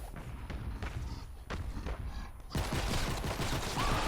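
Sustained automatic fire from the Haywire Storm gun in Fortnite Save the World, a steady dense rattle that grows louder and heavier partway through.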